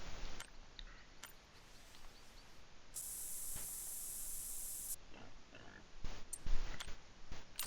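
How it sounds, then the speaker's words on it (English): A can of scent-control spray hisses out in one sharp burst of about two seconds during a dawn hog hunt outdoors, fairly close, surrounded by faint clicks and quiet rustling with no talk. "I am going to go ahead and put a little bit more spray on to keep my scent down."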